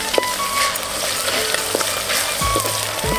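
Ginger garlic paste sizzling in hot oil in a pan while Telangana boti dalcha is cooked: a steady, close, crackling fry with faint clinks and tones above it.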